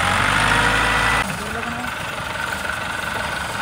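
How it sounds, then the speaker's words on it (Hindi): A tractor engine straining in deep desert sand, a steady loud diesel drone that drops sharply in level about a third of the way through and then continues as a rougher, lower idle-like rumble. "हम ट्रैक्टर को ले हैं लेकिन ट्रैक्टर खुद भी नहीं चल पा रहा कोई तरीके से।"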